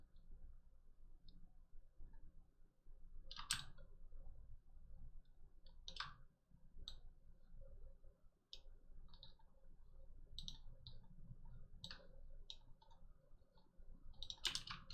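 Sharp, quiet computer mouse clicks during 3D modeling in Blender come in scattered singles and pairs against near silence, some spaced seconds apart.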